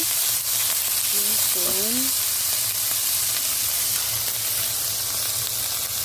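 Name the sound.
chopped garlic sizzling in a frying pan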